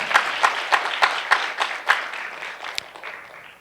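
Audience applause at a Korean education presentation event, with clearly separated claps in a fairly steady rhythm at first, then thinning out and fading toward the end.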